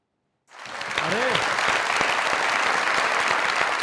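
Studio audience applause on a Pakistani comedy talk show stage, starting abruptly after a short silence and holding as a steady, dense clapping wash; a brief rising tone is heard near the start.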